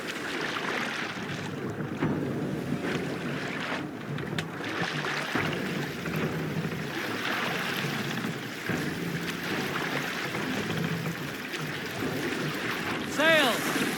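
A Viking longship cuts through waves in Assassin's Creed Valhalla, with a continuous wash of water and gusting wind, faint creaks and splashes, and a brief brighter splash near the end.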